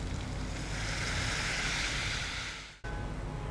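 Water poured into a pan of masala paneer spiced with red chili and garam masala, a steady broad rushing pour that runs for under three seconds, fades, cuts off briefly, then resumes.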